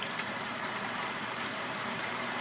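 Rain sleep sounds played back from a device: a dense, even hiss of rainfall that holds steady throughout, with no thunder and no talking.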